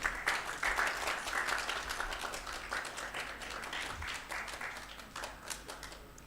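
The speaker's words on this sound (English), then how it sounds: "I request everyone to give him a huge round of applause." Applause from the audience at an education course ceremony during an award presentation, a fairly faint, distant patter of many hands with some individual claps standing out, steady over several seconds.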